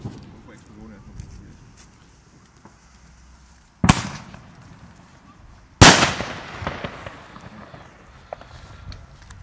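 Two loud New Year's Eve firework blasts, one sharp bang followed by a bigger one that crackles and echoes, among quieter distant pops outdoors with people chatting nearby.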